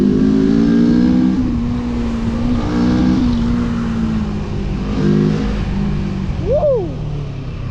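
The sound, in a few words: NK 400 motorcycle engine revving when throttle is opened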